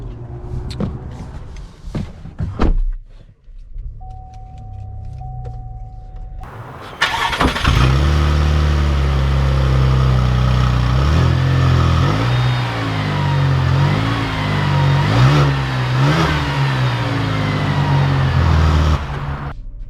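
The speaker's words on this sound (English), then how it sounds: "let's take this Traverse out and see how it drives." A 2020 Chevrolet Traverse Premier gives a few clicks and thuds, then a chime, then the engine starts and settles into a loud, steady drone with road and tire noise as it pulls away.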